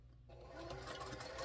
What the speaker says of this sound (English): I'm just going to flip these over, and I'm going to sew them and chain stitch these.